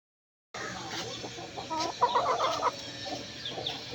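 Several chickens cluck and murmur close by, overlapping soft calls over a steady barnyard background.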